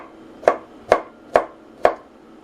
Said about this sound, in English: we chop finely